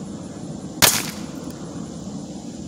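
A single sharp gunshot firing a 3D printed slug toward a water target, one loud crack with a brief splashy tail over a steady outdoor background hiss.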